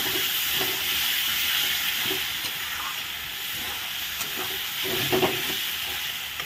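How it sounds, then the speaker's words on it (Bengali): Spice masala for a boal fish head fries and is stirred in a pan, giving a steady loud hiss and sizzle with occasional soft scrapes and clinks from the stirring, and no voices. "এখন ভালো করে আমি আবার একটু নেড়ে চেড়ে দিলাম"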